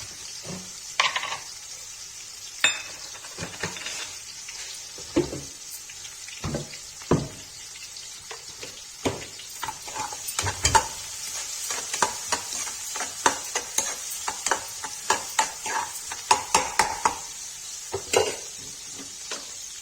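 Onion, garlic and green chili sautéing in a pan for chana dal, with a steady sizzle broken by repeated scraping stir strokes and clinks, close and fairly loud throughout, no voices.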